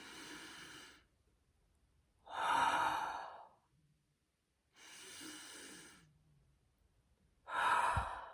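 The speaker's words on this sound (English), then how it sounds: "I actually will practice box breathing" Slow, controlled box breathing at rest: four long, soft breaths alternate between inhaling and exhaling, each lasting about a second. Quiet pauses separate them, and the breaths are close and clear with no talking.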